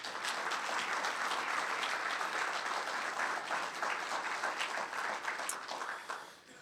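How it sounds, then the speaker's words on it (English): Round of applause for a community leader at a city State of the State event in Torrance, California: steady, dense clapping from a sizable audience, moderately distant, holding evenly before tapering off at the end. "I'd love everyone to just give Heidi Ashcraft one more round of applause."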